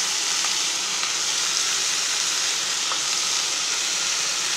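Ingredients for coriander chutney sizzle steadily in a hot pan, a dense continuous hiss with a few faint ticks from stirring, close and without voices.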